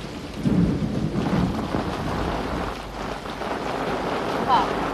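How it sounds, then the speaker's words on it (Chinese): Heavy rain pours in a steady, dense roar with low rumbles of thunder underneath, continuous and fairly close, with no clear talking over it. "下这么大雨，你快回去吧。"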